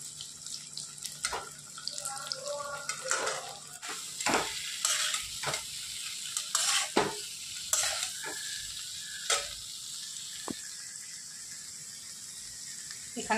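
Cauliflower, potato and soybean chunks fry and get stirred in a pan, making a sizzle with sharp scraping strokes, while running water splashes in the background.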